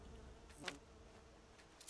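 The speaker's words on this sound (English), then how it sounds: "why are there so many bees around here?" Bees buzzing in Skyrim, a faint continuous insect drone with a few brief louder passes close by, low in level against quiet game ambience.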